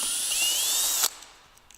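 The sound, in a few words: unscrewing a screw on a roof rack rail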